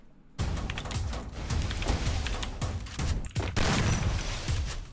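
Rapid gunfire from a Free Fire online shooter match, bursts of shots and impacts crackling loud and continuous across the whole stretch with brief gaps, no talk over it.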